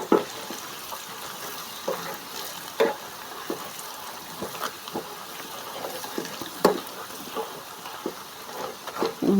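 Garlic sizzling in hot oil in a pan for a chutney, a steady close crackle and hiss with scattered louder pops and spatters, continuous throughout with no talking.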